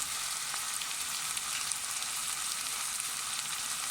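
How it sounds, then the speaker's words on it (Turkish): Chopped vegetables with butter and tomato paste fry in a pan for a vegetable and chicken orzo pilaf, giving a steady, dense sizzle close up that runs unbroken throughout, with no voices. "Şimdi iyicene kavuracağız."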